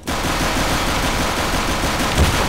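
Dense, loud automatic gunfire from the video game CS:GO rattles continuously for a couple of seconds, with rapid overlapping shots filling the clip and no talking.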